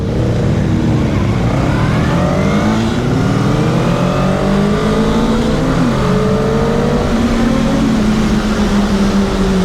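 A Honda Rebel 500 motorcycle engine is blipped repeatedly in third gear, rising and falling in close, loud revs with short throttle bursts throughout.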